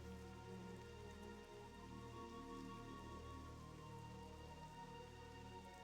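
Steady rain falls in World of Warcraft, a continuous dense patter of raindrops with no break, alone and unchanging throughout.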